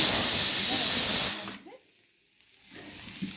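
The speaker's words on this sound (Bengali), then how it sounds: "প্রেশারে সিটি মারছি" A pressure cooker cooking flat beans with garlic, green chilli and turmeric lets out a loud, steady steam hiss that cuts off abruptly after about a second and a half, leaving quiet kitchen sounds.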